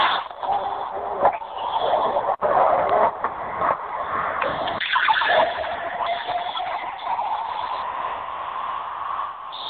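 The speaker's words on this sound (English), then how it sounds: "What is that sound of that liquid pouring?" Soda pop liquid pouring and fizzing, a continuous bright rushing splash with bubbly hiss and small gurgles, fairly close and steady for the full length.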